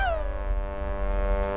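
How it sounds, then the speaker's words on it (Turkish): A foghorn sounds in a cartoon forest scene, a single long, deep, steady blast with a falling tone at its start and no voices over it. "Bu sis düdüğü."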